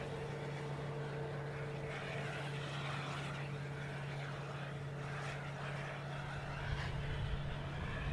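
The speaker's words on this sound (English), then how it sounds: "I think it should be making the final turn." An airliner on final approach to Boston Logan gives a steady, moderately distant engine drone with a constant low hum, holding evenly throughout without talk.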